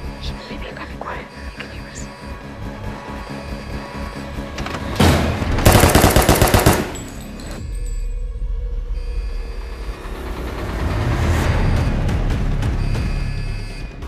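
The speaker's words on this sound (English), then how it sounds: "Shots fired, kitchen area." Burst of rapid gunfire in a kitchen area during a tense standoff, loud and dense for about a second or two, after hushed whispering and followed by low rumbling and muffled voices.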